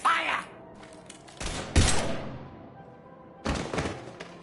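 Video-game gunfire from Mass Effect 3 comes as three separate volleys of sharp, loud shots with short quiet gaps between them. A voice is faintly audible in the background.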